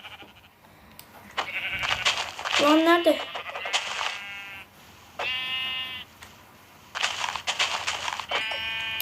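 Sheep bleating in a video game: several short, nasal, quavering bleats in separate bursts, fairly close, while someone talks between and over them.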